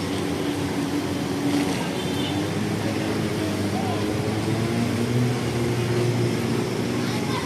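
Motorcycles push through deep flood water on a flooded city street at Tayuman–Abad Santos, a steady engine drone and sloshing rumble running continuously with voices talking over the scene.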